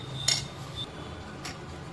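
Spoon clinking against a bowl while egg batter for an omelette is mixed, two sharp metallic taps about a second apart over quiet, close room tone.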